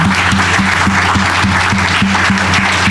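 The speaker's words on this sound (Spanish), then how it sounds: "Dale una ofrenda de palmas al Señor esta mañana." Church congregation clapping together in a steady rhythmic beat during a Sunday service, loud and continuous, with dense hand claps filling the room.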